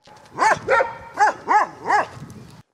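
Five sharp barks from stray dogs in quick succession, loud and close, with brief gaps between them and no other voices.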